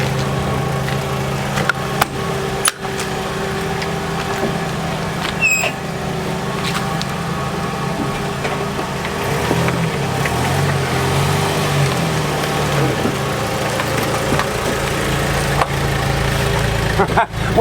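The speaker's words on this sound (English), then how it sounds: "the main thing is to crank her up, see how she sounds, and see how she runs" A 1979 Jeep Wrangler CJ5 Golden Eagle engine runs at a steady, close idle with a low rumbling drone throughout and a few sharp clicks, without any clear cranking.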